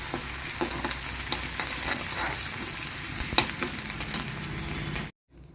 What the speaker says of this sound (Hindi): कड़ी पत्ता भी यहाँ पे डाल दिया, प्याज भी मैंने ऐड कर दिया यहाँ पे।